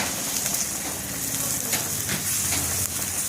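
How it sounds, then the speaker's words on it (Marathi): Eggplants sizzle and fry steadily in a covered pan, a constant close hiss and crackle with faint scraping as they are turned over. "आता झाकण ठेवते म्हणजे वांगी शिजतील आणि पुन्हा असं पलटून घेते."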